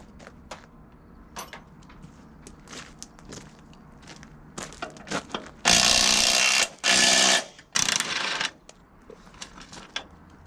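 Tools work at the wheels of an antique 1920s Dodge: scattered metallic clicks and clanks, then loud bursts of what sounds like an air impact wrench in several short runs, close by.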